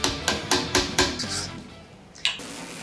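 A hammer strikes metal in quick, evenly spaced taps, five in a row, then a pause before one final sharp hit; close and fairly loud.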